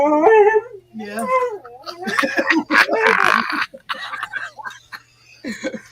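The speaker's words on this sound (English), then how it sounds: "now he's like just howling his ass off" A pet dog howls and whimpers in long wavering cries, close by, in a home setting, with people talking around and between the howls.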